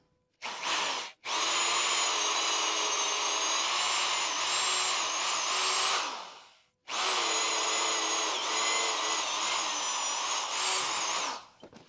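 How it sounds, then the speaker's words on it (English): Power drill boring 7/8 inch holes in a wooden playhouse skid, two long close bursts of steady high whine separated by a short pause, with a brief blip at the start and no talk. "I need to drill 2 holes, 7/8 of an inch, a foot back"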